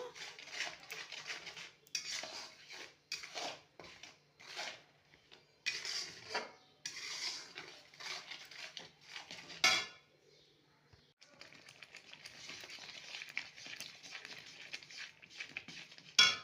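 Prawn curry (chingri malaikari) being stirred and sautéed in a pan after a pinch of sugar goes in, with repeated scraping and clinking of a utensil against metal in irregular bursts, a short pause, then steady close stirring.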